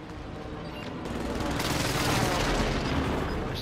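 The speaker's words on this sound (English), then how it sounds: "Allied precision airstrike incoming." An allied precision airstrike strikes in Call of Duty Warzone, a steady rumble that swells into a sustained roaring barrage of blasts and gunfire in the second half.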